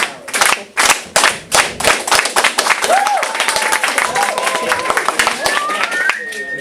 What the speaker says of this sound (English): You gotta clap louder.